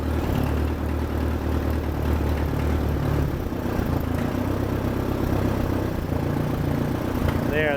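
Allis-Chalmers D14 tractor engine running a little rough, a steady close low-pitched rumble with uneven pulsing that holds for the whole stretch, with faint speech-like sounds in the background.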